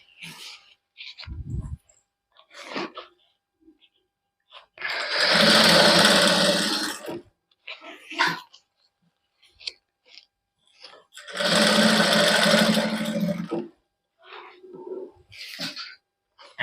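A sewing machine stitches a hand-worked suit trimmed with lace, in two sustained whirring runs of about two seconds each, separated by quiet gaps with brief handling noises and short bits of voice.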